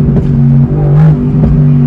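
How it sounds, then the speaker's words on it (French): Mercedes-AMG GT R 2020 with 577 hp, its engine droning loud and steady with low harmonics, swelling around the middle as the driver downshifts, with brief pops and crackles on top. "on va rétrograder encore"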